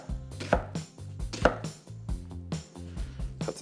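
An onion is chopped into half-inch pieces on a cutting board, with a knife striking in a steady run of close, crisp chops and no talk.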